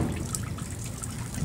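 Liquid is poured off catfish eggs during fish propagation, giving a continuous soft splashing trickle of water that runs steadily for the whole moment, close and alone without speech.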